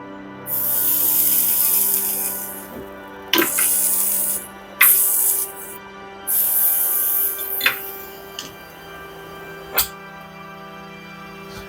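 Metal tools working on the dry filter of an Electrolux fridge with an oil blockage, giving sharp clicks, snaps and ratcheting bursts at irregular intervals over a steady low hum, close by with no talking.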